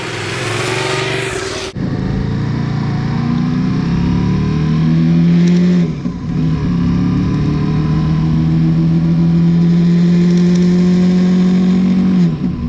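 Yamaha FZ-07 motorcycle on a test ride, its engine loud and close as it revs and pulls through several rising gear runs, easing off briefly between them, with wind noise and no speech.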